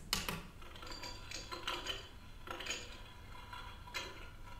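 The ice button on a toy doll-kitchen dispenser plays a recorded ice-cube effect, a series of clinking, rattling bursts repeating at uneven intervals, quiet and close with no talking.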